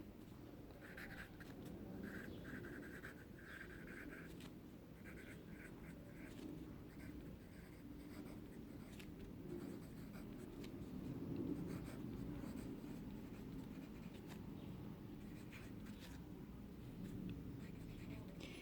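A pen scratches steadily across paper as answers are written in capital letters, a continuous close scratching that runs the whole time beneath a faint voice.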